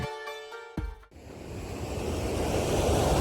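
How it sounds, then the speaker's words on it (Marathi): Waterfalls at Bhandardara pour with a steady, broadband rushing roar that swells and fills the scene after a brief, different-sounding opening second. "हे बघा इकडे धबधबेच धबधबे धबधबे"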